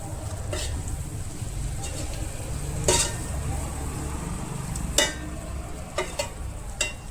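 Chicken fry with chopped spring onions being stirred in a pan, a soft steady sizzle with a few sharp scraping clacks of the spoon against the pan at irregular intervals.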